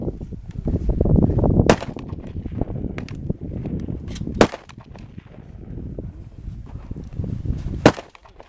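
Three loud, sharp blasts from an MP-155 shotgun firing handmade cartridges ring out at uneven intervals over a steady rumble of outdoor wind noise.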